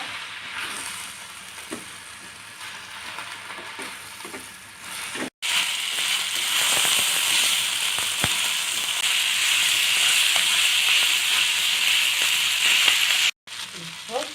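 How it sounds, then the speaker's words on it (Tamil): Drumstick leaves sauté in hot oil in a pan, a loud, continuous sizzle and hiss that swells after the leaves go in, with brief stirring scrapes and a voice talking over it. "இப்போ முருங்கைக்கீரை போட்டு நல்லா முருங்கைக்கீரை கலர் மாறும் பாருங்கள். அந்த அளவுக்கு வதக்கலாம் நம்ம."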